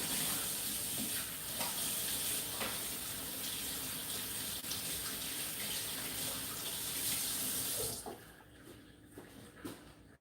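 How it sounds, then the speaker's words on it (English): Kitchen tap water runs steadily into a sink as hands are washed after handling raw pork for meatballs, a close continuous gush for about eight seconds before the flow stops and quieter handling noises follow. "Let me wash my hands now that I've touched the pork."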